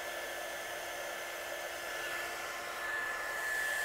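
A heat tool blows steadily and loudly from underneath to set embossing enamel for papercraft stamping, a continuous close whirring roar that swells slightly toward the end.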